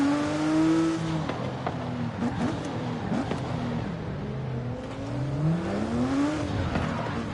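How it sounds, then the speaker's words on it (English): A car engine in the racing video game Forza Horizon 5 revs up and down through rising and falling sweeps, loud and close, with a brief tire squeal in the middle. "I hear a car."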